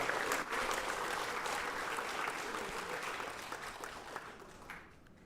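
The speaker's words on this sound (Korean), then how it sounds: "다시 한번 감사의 박수 부탁드리겠습니다" Workshop attendees at an opening ceremony give a sustained round of thankful applause, a dense even wash of many hands that slowly thins and fades out near the end.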